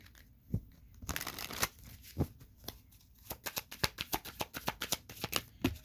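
A deck of tarot cards is shuffled by hand nearby, with a few scattered flicks, then a rapid run of crisp riffles and snaps building into dense, rhythmic bursts.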